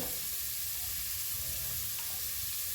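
Onion, carrot and beans frying in a pan for a mixed vegetable and pea soup, a steady close sizzle with faint stirring, no talk.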